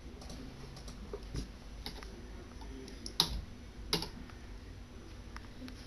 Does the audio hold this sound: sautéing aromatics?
no